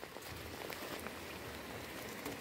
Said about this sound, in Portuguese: Ai, está muita chuva agora.